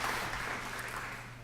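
Audience applause at a university alumni banquet, a steady, moderately quiet wash of clapping from a room of diners that holds even for the whole moment without voices standing out.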